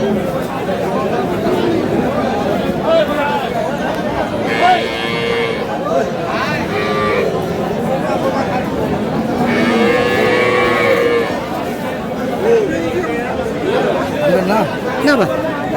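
Cows and calves low and moo repeatedly at Aftabganj cattle market, the calls rising over a steady hubbub of crowd chatter and nearby voices.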